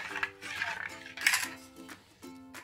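Spoon clinking against a bowl while salt, chilli, turmeric, asafoetida, hot oil and water are stirred together for garlic shev dough, several short metallic taps and scrapes spread over a few seconds, close and fairly quiet.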